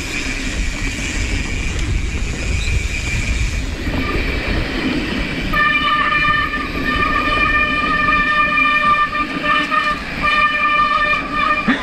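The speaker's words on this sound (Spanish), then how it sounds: "Tu freno suena como camión." A mountain bike brake squeals loudly on a downhill trail, a sustained high-pitched tonal screech that starts midway and holds for several seconds over rushing wind and rolling noise.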